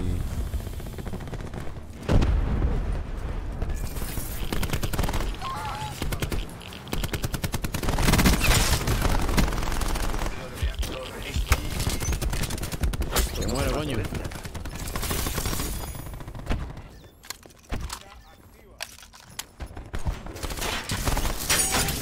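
Gunfire in Black Ops 4, with dense bursts of shots and rapid automatic fire running through most of the stretch under game noise, then thinning into sparse isolated shots near the end.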